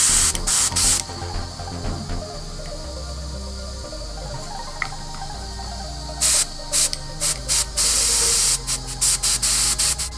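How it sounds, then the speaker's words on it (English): An airbrush with its needle nearly shut makes light passes over a model of a Haunebu II, giving sharp, close hissing bursts of varying length with quiet gaps between them, over a low background hum. "put your airbrush on a very low setting, turn almost the needle completely shut, and then you're just making passes over it"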